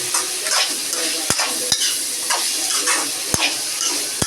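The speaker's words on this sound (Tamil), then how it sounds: "நல்லா நம்ம இதெல்லாம் இது இன்க்ரீடியன்ஸ் எல்லாம் போட்டு நல்லா வதக்கணும்." Ingredients for a simple breakfast dish sauté in a pan with a constant hissing sizzle, broken by a few sharp clicks of a spatula scraping and stirring against the metal.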